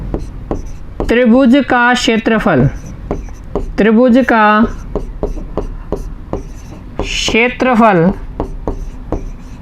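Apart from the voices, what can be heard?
writing a solution by hand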